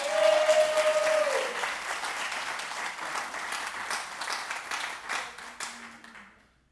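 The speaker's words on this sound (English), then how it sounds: "let's have a round of applause for Jackie Cheney" Audience applause in a church gathering for a Mother's Day service, a steady dense clapping from a room of people that swells at the start, holds, then thins and dies away near the end.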